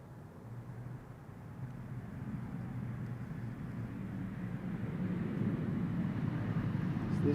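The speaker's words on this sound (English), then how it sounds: "KLM flight 1076 arriving from Bristol. Embraer 175." KLM Embraer 175 arriving at Schiphol from Bristol, a low distant engine rumble that grows gradually louder over the seconds, with a faint hum underneath.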